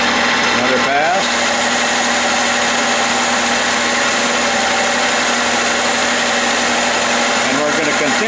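Metal lathe turning the hub of a pulley, a loud steady mechanical hum with a constant whine, the cut settling in after a brief start, continuing evenly with no talk.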